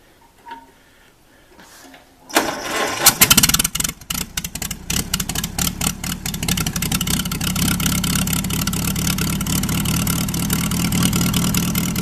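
A Farmall B tractor engine, plugs slightly missing after little running this year, cranks and catches, then runs with a rapid, uneven popping chug close by. Its loose, irregular beat carries occasional skips, preceded by a short quiet stretch with a faint knock.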